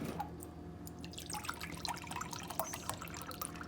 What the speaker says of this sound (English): And then I'm gonna add 2 cups of cold water.